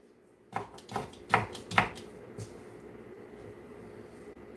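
A knife chops potatoes for home fries on a cutting board, a quick run of four or five sharp close knocks followed by softer scraping and quieter kitchen background.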